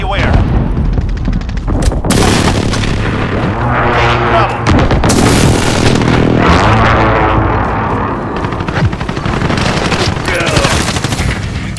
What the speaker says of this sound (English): Allied airstrike incoming, beware!